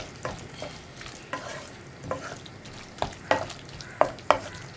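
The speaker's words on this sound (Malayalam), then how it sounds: "ഒരു 2 മിനിറ്റ് ഇളക്കി കൊടുക്കുക." A spoon scrapes and knocks rhythmically in a pan of sizzling tomato curry with spice powders, several sharp clinks over a steady low frying hiss, close and without talk.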